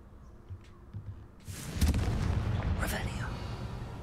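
Confringo fire spell blast in Hogwarts Legacy, a sudden booming explosion with a crackling burst and a rumbling tail after quiet, soft sounds.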